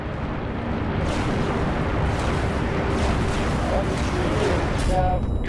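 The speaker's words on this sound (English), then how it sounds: "Then hit them with your missiles." Missile fire and explosions in a space battle in the Halo Reach video game: a continuous, loud, roaring barrage of blasts and rumbling booms that swells in bursts, with faint radio voices underneath.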